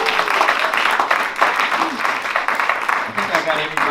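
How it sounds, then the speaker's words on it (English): A jazz concert audience at an MLK tribute gives a dense burst of applause for the bass player, loud and close, with cheers and voices mixed in. "At the bass, wonderful round of applause,"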